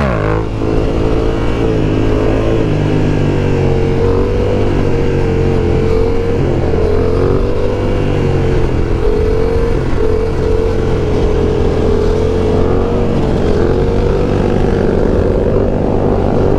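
A Yamaha R7 motorcycle engine pulls hard in third gear, a loud, steady, close droning roar with a rising pitch that holds for the whole stretch and has no talking over it.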